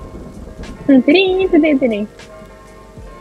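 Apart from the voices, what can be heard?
rain in the video game Kingdom Two Crowns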